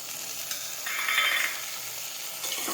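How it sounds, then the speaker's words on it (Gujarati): Chopped tomatoes go into a hot pan for a Gujarati chori (cowpea) vegetable dish, bringing a broad, steady sizzle that swells briefly as they hit the oil, with light stirring and no talk. "હવે આપણે સમારેલા ટમેટાં નાખી દઈશું."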